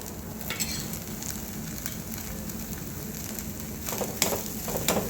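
Semolina sheera with sugar and cardamom powder is stirred in a hot pan, a soft continuous sizzle with scraping, gritty stirring strokes that grow slightly louder toward the end.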